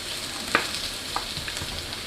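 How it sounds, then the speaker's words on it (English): Sunflower oil heats in a skillet with a soft, steady sizzle and a few small crackles and pops scattered throughout, close and unaccompanied. "So you can hear a little bit of a sizzle."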